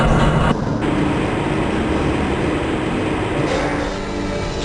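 A Black Mesa transit train from Half-Life: Blue Shift rolls along its track with a steady, loud, dense rumble and hiss that barely varies. It shifts slightly in tone partway through, with no voices over it.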